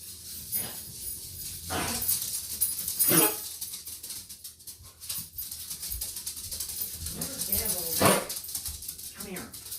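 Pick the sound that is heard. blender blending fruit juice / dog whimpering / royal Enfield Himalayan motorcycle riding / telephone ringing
dog whimpering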